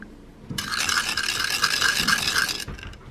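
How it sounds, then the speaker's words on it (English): A spoon scrapes and swirls around a bowl, stirring sugar into a nikujaga sauce mixture with rhythmic, close, steady strokes for about two seconds, then stopping. "And just give that a good old mix."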